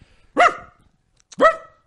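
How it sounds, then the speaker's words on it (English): A dog indoors gives two loud, close barks about a second apart, each sharp and harmonic, with near silence between them. "There's a dog in the room."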